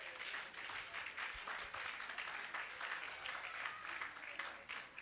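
A church congregation applauds steadily throughout, dense continuous clapping filling the room with a few louder swells.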